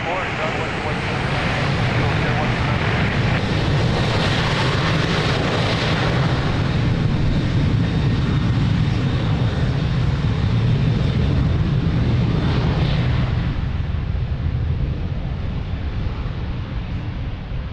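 An airliner takes off from runway 02 at Lisbon Airport. Its engines make a loud, continuous roar that swells and then holds steady throughout, with no other sound standing out.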